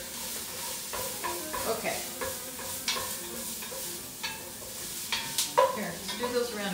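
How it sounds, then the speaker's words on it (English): Onions frying and being stirred in a pan while hummus, chili and cookies are cooked at home, giving a steady sizzle with scraping utensil strokes and occasional clinks, close up, with a brief spoken word. "In go the onions."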